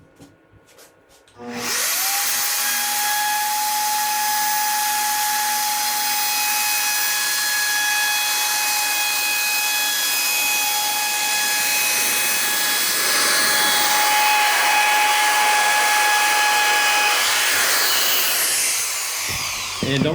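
A high-speed power tool running at 25,000 RPM cuts through birch wood, a steady piercing whine starting abruptly and holding loud and even for about fifteen seconds before spinning down.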